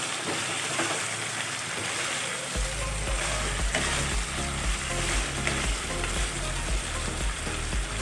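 Chicken liver hits a hot pan of chicken and tomato sauce and sets off a loud, steady sizzle and crackle of frying that runs unbroken to the end, with no voices over it.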